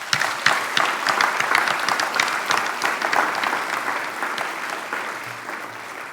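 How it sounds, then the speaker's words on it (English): Audience at a credit union annual meeting breaks into loud, sustained clapping from many hands, swelling early and then gradually thinning toward the end. "Please join me in a round of applause for the leaders of your Abound Credit Union."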